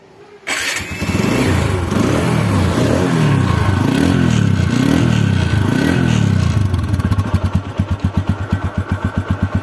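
A 2020 TVS Apache RTR 160 motorcycle with about 1,500 km on it starts with a quick crank, then runs loud and close with a couple of rising revs before settling into a steady, thumping idle.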